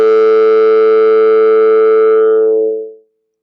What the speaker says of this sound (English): This simple process with one formant, one single train of impulse, would give a sound like this one.